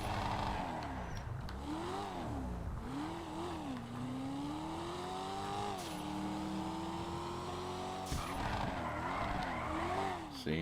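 A car in GTA 5 Online drifts with a long, wavering tire squeal over a loud, revving engine that surges and dips several times, up close and with almost no talk.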